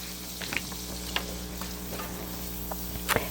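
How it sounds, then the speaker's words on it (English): Apples tossed with granulated sugar, cinnamon and ground nutmeg sauté in a pan, giving a steady low sizzle with a few brief stirring scrapes and clicks, close and fairly quiet. "you're basically just gonna saute these apples until they're soft"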